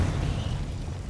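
The Confringo explosion spell from the Hogwarts Legacy video game goes off as a short, deep, rumbling blast that fills the low end and fades over about a second, heard alone.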